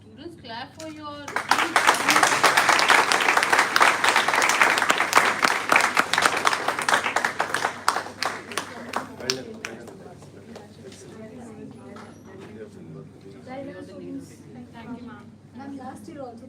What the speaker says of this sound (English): Students, clap for your.